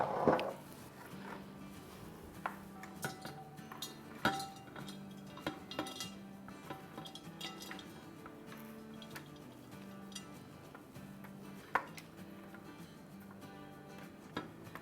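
Crispy noodle bhel puri is served onto a plate, with scattered clinks and scrapes of a spoon against dishes, sharp taps over quiet background music, close by and without talk.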